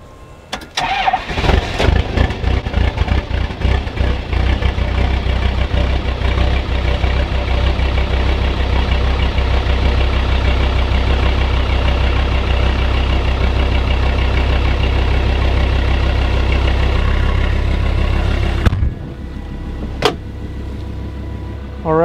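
A Kubota M125X tractor's diesel engine cranks and catches on a cold start in snowy weather, then settles into a steady, loud, rumbling idle for about seventeen seconds before cutting off abruptly, leaving near quiet.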